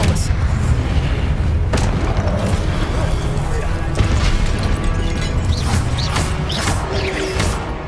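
Spell combat in Hogwarts Legacy on PS5 Pro, with the Expelliarmus disarming spell among dense booming magical impacts and crashes, loud and continuous, while the character voice calls out spells.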